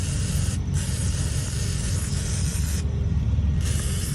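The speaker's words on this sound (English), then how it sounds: "then I'll take this WD-40 and clean it real good." WD-40 sprayed from an aerosol can onto a part of a John Deere 24T square hay baler out in a field, a steady loud hiss that breaks off briefly twice, once early and once late.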